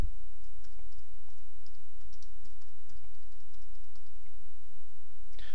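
A computer mouse clicks repeatedly while a form field in Adobe Acrobat is renamed, giving light, rapid ticks over a steady background hum, close and fairly quiet, with no speech.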